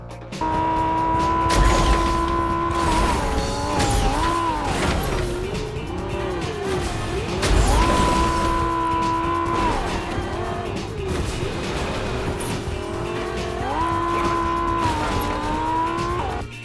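A car in the Fortnite video game drives with a steady engine drone while its tires squeal and skid in long rising and falling wails. The sound is loud and continuous for the whole stretch.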